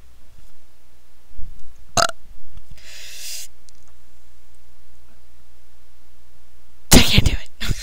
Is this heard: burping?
yes